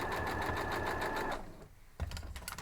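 A sewing machine runs a quarter-inch seam on a folded-corners Big T quilt block: a fast, even rattle of stitching for over a second, a brief stop, then a short second burst, close and clear.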